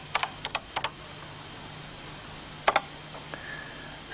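Keys clack on a 1983 BBC Micro computer keyboard, a few sparse clicks in small clusters over a quiet background with a faint steady hum.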